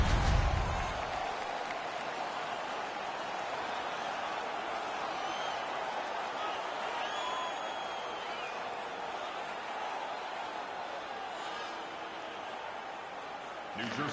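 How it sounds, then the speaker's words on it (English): Arena crowd in a PS4 ice hockey game roars steadily after a fight between the Devils and Detroit, a sustained broad wash of cheering with a brief swell at the start and end. "The crowd is so pumped right now."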